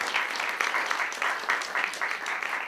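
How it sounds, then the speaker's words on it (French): Audience applause fills a hall at a French public talk and screening, a dense steady wash of many hands clapping at a fairly even level for a few seconds, with no voices above it. "donc on peut encore l'applaudir"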